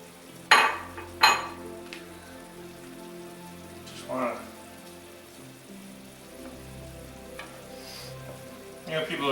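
About 12 ounces of large shrimp drop into a hot pan for garlicky shrimp scampi, with two sharp splattering bursts at first, then a steady, rain-like sizzle and occasional stirring clatter.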